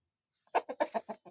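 A Brahma rooster clucks in a rapid series of about six short, evenly spaced bursts, fairly close and alone against a quiet background.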